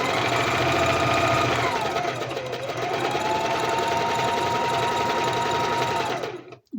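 Sewing machine stitching fabric, a fast steady mechanical whirr and rattle running close and loud for several seconds, with a slight pitch dip midway, then stopping abruptly.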